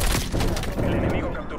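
A burst of explosions and gunfire in the Black Ops Cold War video game, a loud boom followed by rapid crackling blasts and thuds, with someone talking over the action.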